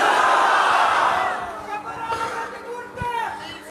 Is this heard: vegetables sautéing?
no